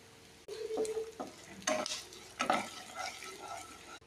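Whole cumin seeds and asafoetida frying in hot oil in a pan while being stirred, with bursts of sizzling and scraping strokes rising and falling, close up and without voices.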